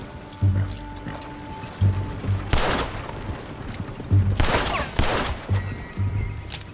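Scattered gunshots from soldiers in a Red Dead Redemption 2 shootout, several loud cracks at irregular intervals over a low rumbling background of thumps and movement.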